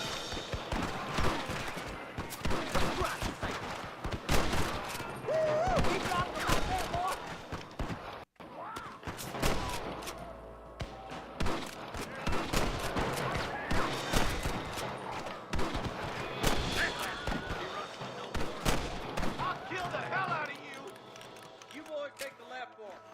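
Repeated gunfire in the Western video game Red Dead Redemption on Xbox 360, with sharp shots in rapid bursts throughout a running shootout, mixed with game sounds and talking voices.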